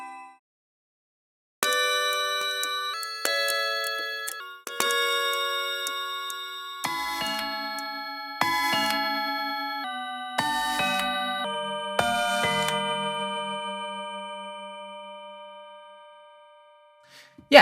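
A sequence of sampled clock bells and chimes from the Watchkeeper clocks library rings out one after another, each struck tone ringing and slowly decaying, the later ones lower and slowed down, clear and close with no talking.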